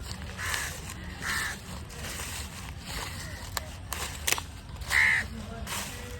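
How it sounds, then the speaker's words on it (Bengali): Several crow caws ring out at intervals over a steady low rumble of background traffic noise, moderately distant, in Zia Udyan park, Dhaka. "এই যে কাকের ডাক শোনা যাচ্ছে"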